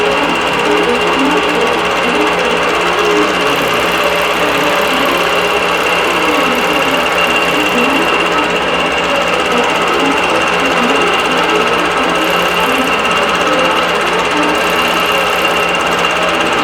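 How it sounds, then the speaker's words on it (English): A quilting sewing machine stitches a Feather Flurry pattern into a quilt with a steady, loud, unbroken mechanical whir and rapid needle chatter, running alone without any talk. "when I'm sewing on the machine manually, I will smooth out the quilt as the machine is moving"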